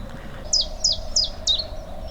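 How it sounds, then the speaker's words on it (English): A bird calls from a hole in a tree on a spring countryside walk, giving four short bright chirps at an even pace, clear over a low background hum. "Hope the camera's picking up that bird in that hole in that tree."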